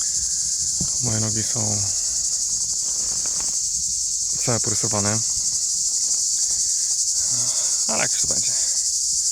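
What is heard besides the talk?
cicadas chirping on Pyrenees GR 11 trail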